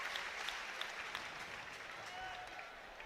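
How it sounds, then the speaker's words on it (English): Football crowd at a York City versus Barnet match applauding the small band of travelling away supporters, a steady spread of clapping heard at a distance under faint crowd murmur. "Yorkie the Lions down there in front of us applauding."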